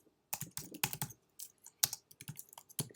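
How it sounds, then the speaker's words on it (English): Typing on a computer keyboard while entering a textbook chapter for a virtual classroom assignment, with irregular bursts of close key clicks separated by short pauses. "You could type in the chapter."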